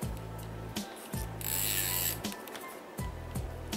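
The drag of a 9-weight fly fishing reel is turned, giving close, repeated ratcheting clicks in short bursts separated by brief pauses and handling noise.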